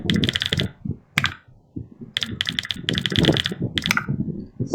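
A computer keyboard clatters close up as an SQL command is typed at a MySQL command prompt, with quick bursts of keystrokes broken by short pauses and a few isolated taps.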